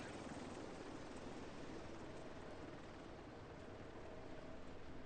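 A helicopter in The Division 2 game flies overhead, a faint, steady broadband rotor wash and whoosh that holds level for the whole stretch with no voices.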